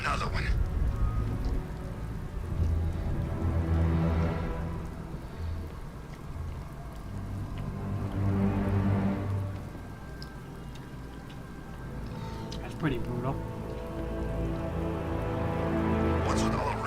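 Steady rain pours down over the city streets in Batman: Arkham Knight, a dense continuous hiss running the whole stretch beneath deep game ambience and music, with someone speaking briefly over it.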